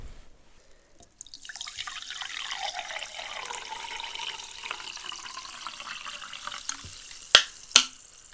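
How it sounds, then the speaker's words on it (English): Fizzy sparkling water hisses softly with a fine crackle of bubbles after a pour, a continuous close fizz that fades slowly, followed by two sharp clinks near the end. "I quite like the sound of the bubbles."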